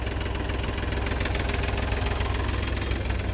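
An Eicher 480 tractor with double clutch and about 150 running hours idles with a steady, loud diesel knock, its low rhythmic thrum unbroken and close throughout.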